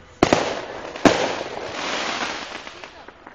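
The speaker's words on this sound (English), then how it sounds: "Sparkler bomb." A sparkler bomb firework goes off at a Fourth of July celebration, with two sharp loud cracks followed by a sustained harsh crackling fizz that slowly fades.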